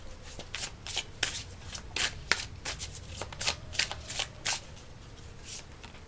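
Oracle cards being shuffled by hand, a rapid series of crisp riffling and slapping bursts repeated irregularly over several seconds, close and fairly quiet with no talking.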